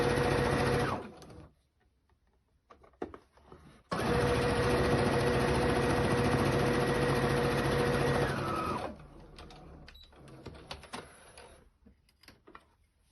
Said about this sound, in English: what we're doing is stitching as close to the needle as we can